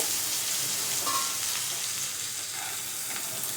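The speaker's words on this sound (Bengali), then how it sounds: "পেঁয়াজ কুচিটা দিয়ে দিলাম এবার আমি এটা লালচে করে ভেজে নেব" Chopped onion frying in a pan for a Bengali fish-head curry gives a steady, soft sizzling hiss throughout, even and unbroken, with no talking.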